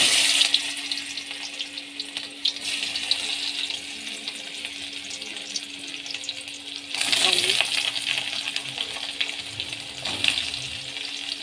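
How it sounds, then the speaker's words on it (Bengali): Whole cumin, dried red chili and onion hitting hot oil, a loud close crackling sizzle that swells in bursts as ingredients go in and are stirred, with a faint steady hum underneath. "তেলটাও গরম হয়ে গেছে তেলে গোটা জিরে শুকনো লঙ্কা দিয়ে দিলাম ফোড়ন আর পেঁয়াজ"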